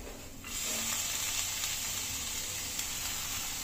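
Carrots and capsicum sautéing in a pan, a steady broad sizzle that swells up after a quiet start and holds evenly throughout, with no talking.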